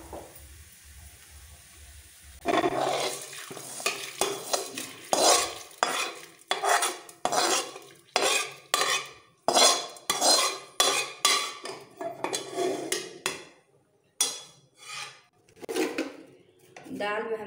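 Toasted lentils being stirred in a pan and scraped into a pressure cooker while making Bengali khichdi, with repeated metal utensil clinks and scrapes in an uneven rhythm, close and fairly loud, with no talk over it.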